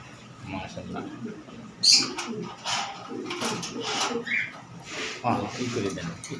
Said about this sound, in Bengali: অনেক সুন্দর একটা কবুতর